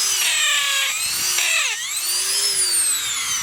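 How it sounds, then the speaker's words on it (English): A power drill with a 7/16-inch bit whines loudly and steadily, its pitch dipping briefly under load as it bites into a wooden fence post, then rising again. "we're going to drill 7/16, I think that's what this is, into the fence post."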